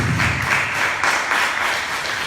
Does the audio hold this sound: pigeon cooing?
no